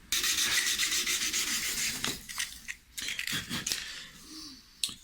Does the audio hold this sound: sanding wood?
yes